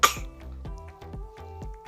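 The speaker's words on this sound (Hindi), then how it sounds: "आपको खांसी हो रही है" A series of coughs in a home, one sharp initial cough followed by a rhythmic run of about five or six shorter, throaty coughs at close range.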